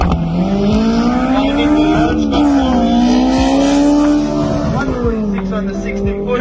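Naturally aspirated Nissan Langley drag car launching hard down a drag strip, its engine screaming loud and close with a rising pitch that dips at each gear shift; a voice talks over it.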